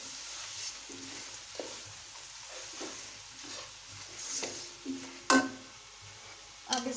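Cumin and coriander powder fry in a pan for chicken yakhni pulao, a soft continuous sizzle with occasional scrapes and a few sharper metal clinks toward the end, no talk.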